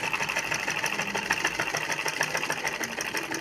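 A sewing machine stitches darts into a blouse with a steady, close mechanical whir and a rapid needle rhythm that runs unbroken throughout, with no voices.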